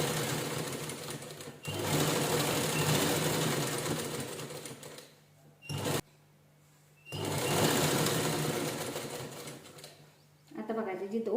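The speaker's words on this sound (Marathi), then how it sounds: "व्यवस्थित असं दोन्ही कपडे एकसाथ धरायचे आणि स्टिच करून घ्यायचं जेणेकरून एकसारखं आलं पाहिजे" A sewing machine runs in steady bursts as it stitches two pieces of fabric together for a cushion cover made from blouse pieces, with two short pauses before the motor resumes, and a voice briefly heard at the end.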